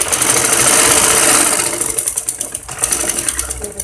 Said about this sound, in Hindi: आप इसकी सिलाई स्टार्ट कर दें।